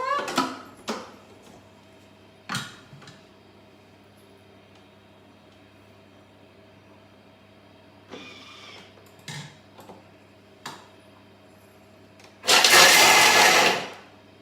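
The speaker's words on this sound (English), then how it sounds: "we're going to pop it in the food processor" A food processor chops macadamia nuts with a few short pulses scattered through quiet kitchen moments, then a loud sustained blast of whirring blades near the end.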